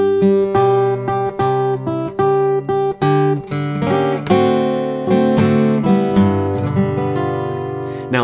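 A blues turnaround lick on guitar, a quick run of picked single notes and double stops that settles into ringing chords, played close and clean with nobody speaking.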